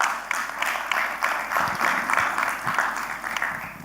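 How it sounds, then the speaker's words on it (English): A conference audience at a fireside chat on AI in oil and gas claps for the organizers: a few seconds of steady, moderately loud applause. "Give applause to these guys."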